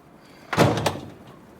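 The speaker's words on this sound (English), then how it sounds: "let's close this door for the final time." A door swings shut with one solid close thump and a short rattling follow-through, heard alone in a quiet room.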